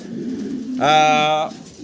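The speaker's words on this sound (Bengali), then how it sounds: "এটা হচ্ছে একটা পটার কবুতর" A pouter pigeon gives one clear, throaty coo at close range, a single drawn-out note lasting about half a second that stands out over quiet background noise.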